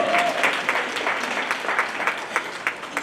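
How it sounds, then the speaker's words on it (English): Conference attendees give a round of applause for a woman named Pam Shaw, many hands clapping steadily with a few sharper individual claps standing out near the end. "so we just got to give her a round of applause."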